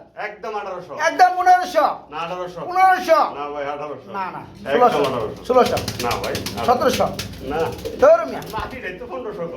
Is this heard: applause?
no